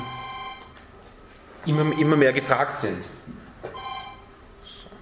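A mobile phone rings in two short bursts of a bright, tonal ringtone, first alone, then again after a stretch of loud, close conversation that briefly covers it.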